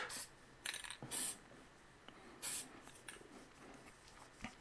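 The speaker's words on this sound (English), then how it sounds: "I'm going to just cover it with some dull coat just to give it some extra protection. And yes, I'm spraying it in the room." Aerosol can spraying dull coat onto a small HO scale model derail sign made from a beer can, indoors: several short hissing bursts of varying length, close and fairly quiet, with no talking.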